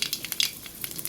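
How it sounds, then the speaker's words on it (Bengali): Nigella seeds hit hot oil and sizzle, a soft crackling hiss with quick popping spatters close by, brief and fairly quiet. "তেল গরম হয়ে গেছে, ফোড়নে দেব কালো জিরে,"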